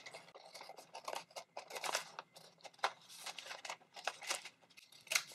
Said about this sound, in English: I'm just going to go ahead and cut it right out.